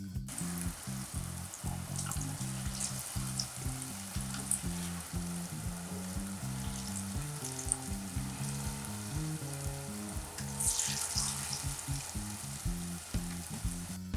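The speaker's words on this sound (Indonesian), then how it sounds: "Goreng hingga kuning kecoklatan dan matang." Pentol meatballs, Ponorogo style, frying in hot oil until golden brown, with a steady, dense sizzle and crackle that runs without a break, close and fairly loud, over a low, droning background.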